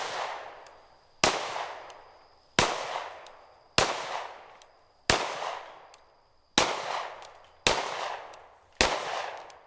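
A Sig P320 X-Ten 10mm pistol fired at a range, eight sharp, loud shots at a steady pace roughly a second apart, each with a ringing decay, no talking.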